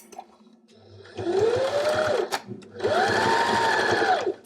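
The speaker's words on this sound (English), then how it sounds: "sew about 5 centimetres and backstitch" A sewing machine stitches a fabric Christmas stocking in two steady motor runs of about a second each, separated by a short pause. The hum is close and fairly loud, with faint background murmur.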